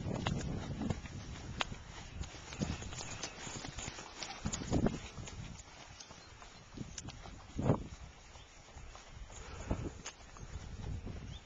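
Horse hooves clip-clopping at a walk in an arena during a riding lesson, steady soft rhythmic thuds at moderate distance with occasional louder strikes, under faint background noise.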